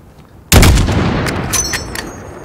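A single sharp sniper rifle shot in Call of Duty Modern Warfare cracks loudly after a brief quiet, followed by a long rolling echo that slowly fades.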